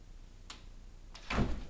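A dog pushing a door shut indoors: two faint light clicks, then a fuller muffled thud and rattle as the door swings closed, close by and with no talking.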